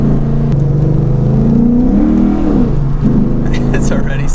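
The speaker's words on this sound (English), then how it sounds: "we're definitely getting some wheel spin here. Got a second gear pull." Lexus IS F pulling hard in second gear on wet, twisty roads with its wheels spinning, the engine note rising and falling in a loud continuous drone beneath someone talking.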